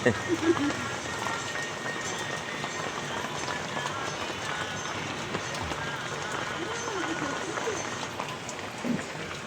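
Steady rain from an approaching typhoon pours down in a continuous hiss, drumming on surfaces nearby, with faint voices and movement in the background.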